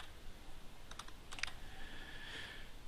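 Quiet typing on a computer keyboard: a few short clusters of light key clicks over a faint background hiss, with no talk.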